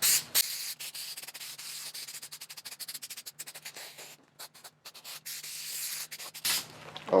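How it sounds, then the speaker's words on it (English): Spray adhesive hisses from an aerosol can onto a VW Jetta door panel in close, steady bursts of spray, broken by brief gaps. "Spray it a light even coat."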